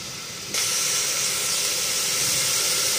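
Food sautéing in a pan for brown rice pulao, a loud hiss that bursts in suddenly and then holds steady and broad, with no talk over it.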